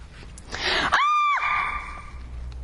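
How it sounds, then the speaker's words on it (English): A woman lets out a single piercing, high-pitched screech that rises sharply and holds briefly before trailing off, close and loud. "It had been the screech of a woman"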